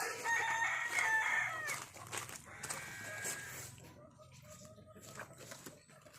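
Chickens and a rooster at a home in Kerala give off crowing and clucking calls in a busy burst early on, then quieter scattered clucks and rustling as the birds are chased.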